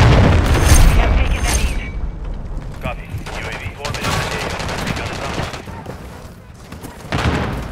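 A frag grenade explodes amid heavy gunfire in Call of Duty: Modern Warfare III, loud booming blasts and rapid shots filling the scene, with radio-style voice callouts mixed in.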